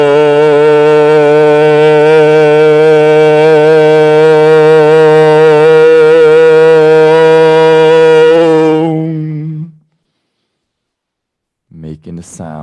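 A sustained, wavering vocal tone imitating crying, held steadily for about nine seconds in a sound healing meditation session, then trailing off into silence before a brief breath-like sound.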